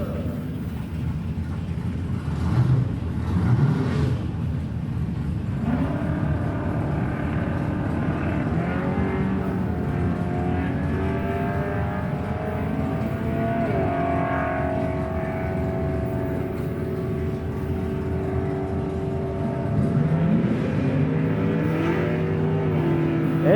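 Drag racing cars, a 1937 Ford Coupe and a 1972 Nova, rumble and rev with a steady engine drone throughout, loud and close, under an announcer's talk.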